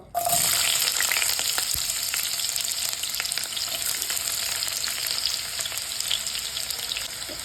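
Onions sizzling in sunflower oil in a pan, a steady, loud frying hiss that begins abruptly and carries on throughout with faint crackles, no voices.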